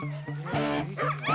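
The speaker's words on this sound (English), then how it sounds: "These dogs were the real deal." Sled dogs of a dog-sled team bark and yip excitedly before a ride in Yellowknife, several close, energetic barks in quick succession over a steady low hum.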